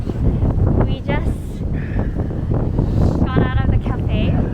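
Strong wind buffets a microphone outdoors in Mallorca, a loud, steady low rumble under continuous nearby conversation.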